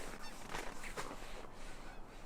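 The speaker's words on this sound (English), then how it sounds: "I think it's Canada geese" Canada geese honk in a freezing winter park, sounding faint and distant. A few short honks break through a low, breathy outdoor hiss.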